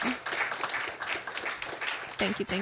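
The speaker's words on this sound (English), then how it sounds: "Applaud, please." Brief applause on a podcast, a short patter of clapping from a few people close by, with a voice speaking over it toward the end.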